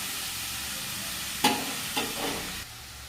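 Shredded cabbage with chillies and salt stirred in a hot pan. A steady sizzle runs throughout, and a couple of quick scraping stirs come near the middle before the frying noise drops off.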